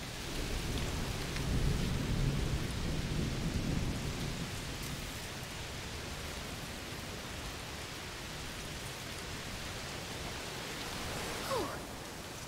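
Heavy rain pours steadily in a thunderstorm scene from the game A Plague Tale: Requiem, with a deep rolling rumble of thunder swelling early on and fading under the continuous downpour.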